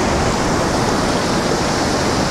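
Shallow seawater rushing back around a person's feet at a Sunshine Coast beach in Australia, a steady, close, loud broadband wash with no pause across the clip.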